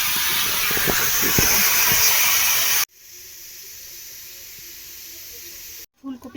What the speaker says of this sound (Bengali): এই যে ফুলকপিটা বেশ একটু লাল লাল করে ভাবছি এখন আলুটাও দিয়ে দিই